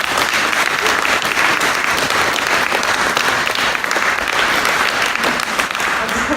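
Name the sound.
applause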